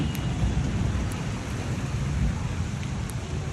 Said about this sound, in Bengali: বৃষ্টি অলরেডি শুরু হয়ে যাইতেছে।